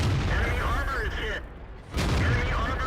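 Heavy tank cannon shots in World of Tanks, deep booming blasts with mechanical rattle, one near the start and another after a short drop in sound, with game noise and some voice underneath.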